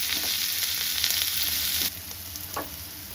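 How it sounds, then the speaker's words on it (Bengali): Onions hit hot olive oil in a pan for a quick Maggi biryani, giving a loud, dense, steady sizzle that drops to a softer crackle partway through, with a brief stir near the end. "এবার তেলটা একটু গরম হতেই আমি দিয়ে দেবো এর মধ্যে পেঁয়াজ"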